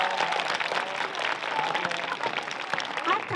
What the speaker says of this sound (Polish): Jeszcze raz oklaski.